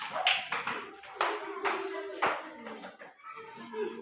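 A classroom of students claps for a group after its presentation, a brief ragged burst of hand claps that rises and falls, fairly close, with some voices mixed in.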